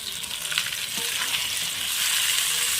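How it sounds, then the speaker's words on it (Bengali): Masala of chopped tomato, salt, turmeric and chili powder frying in a pan over a wood-fired stove, a continuous close hissing sizzle with light stirring, no voices. "জল দিয়ে মশলাটা আমি ভালোভাবে কষে নেব"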